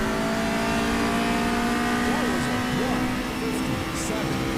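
A Formula Renault 3.5 race car in rFactor2 at the Malaysia circuit screams at full speed in sixth gear, a loud steady high-pitched engine drone with brief tire squeals, as someone talks over it.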